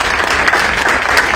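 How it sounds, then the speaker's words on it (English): An audience claps at a live book talk event, a dense, steady burst of applause heard on its own for a moment. "I'm just going to applaud Susan Taylor."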